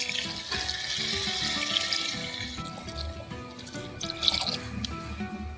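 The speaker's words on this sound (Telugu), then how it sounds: "సో నేను ఇప్పుడు వాటర్ని యాడ్ చేసుకుంటున్నాను." Water poured into a pot of village-style country chicken curry, a steady splashing, trickling stream running continuously at close range with a few louder splashes.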